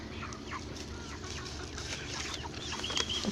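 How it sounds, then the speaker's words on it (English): Small backyard chicks cluck softly in a garden, scattered chirpy calls rising over a steady low background hum, with no one talking. "I wanted to show you my little chicks helping me in the garden"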